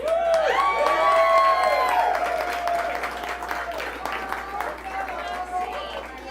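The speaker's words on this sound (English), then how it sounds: "Let's clap for them." An audience at a social media meetup claps and cheers for the event organizers, loud dense applause from a crowd that gradually thins out, with voices calling out over it.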